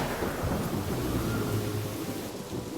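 Cartoon thunder rumbles low and steadily from a rain cloud, mixed with a dense hiss of falling rain, with no voices.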